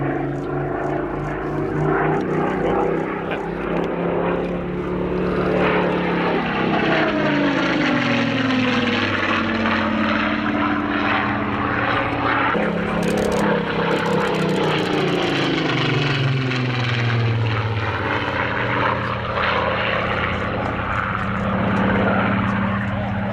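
A propeller aircraft flies a display at the 2019 Cosford Airshow, its loud engine drone rising and falling in pitch as it passes, continuous throughout with faint voices underneath.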